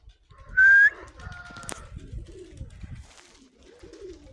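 Pigeons coo softly in low, throaty, repeated bursts, with a brief high electronic beep near the start.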